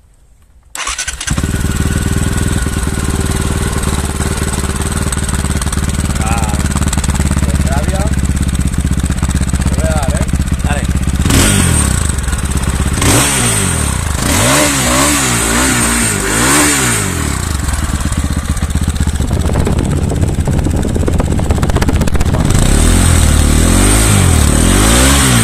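A Fantic Caballero Rally 500 motorcycle with stock Arrow exhausts starts, then idles loudly up close before being blipped through several sharp revs, with people talking over the engine.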